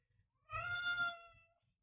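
A cat lets out a single clear, drawn-out meow close by in a quiet indoor art studio, lasting about a second with nothing else audible.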